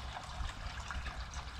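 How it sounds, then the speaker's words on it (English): Water churns and trickles steadily in a koi pond filter chamber inside a polytunnel, a soft continuous bubbling and splashing heard close up with no voices. "But at least it's in here, and it's churning water."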